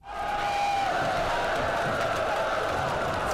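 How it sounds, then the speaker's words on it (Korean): A massed battle cry from an army of soldiers in an ancient war scene rises suddenly and holds as a loud, sustained roar of many voices. "갑자기 뒤쪽에서는 군사들의 함성 소리가 들리더니"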